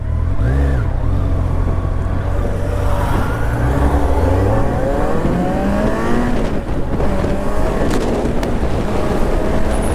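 Kawasaki Ninja Z900 motorcycle engine revving close by, loud and continuous, its pitch climbing and falling through repeated throttle blips with no talk over it.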